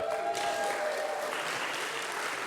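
An audience at Temple Emanuel claps in sustained, dense applause throughout, a steady wash of many hands at even loudness that tapers only slightly toward the end.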